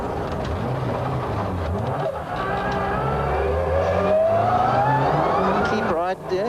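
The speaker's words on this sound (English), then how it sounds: "By driving steadily and keeping the Ford on the road, Rudolf is able to keep his place ahead of a" A Ford rally car at speed on a stage of the 1994 Castrol International Rally, its engine droning with a rising pitch under continuous commentary, with a brief gearshift dip near the end.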